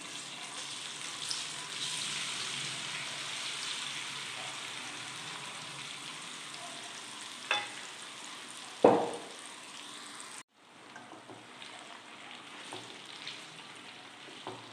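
Indian gooseberries (amla) being stirred in hot oil for a sweet-sour-spicy pickle, a steady soft sizzle with occasional scraping stirs and a sharp clink near the end, close and alone.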